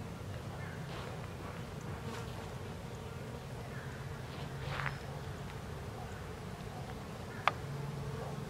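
Bees swarming in the blossoms of a loaded tree give a faint, steady insect hum, with a few brief buzzes passing close and one sharp tick near the end.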